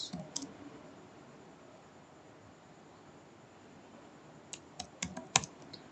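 Typing on a computer keyboard while entering values in an Excel spreadsheet: a quick burst of key clicks at the start, a long quiet stretch under faint hiss, then a cluster of sharper keystrokes near the end, with no talking.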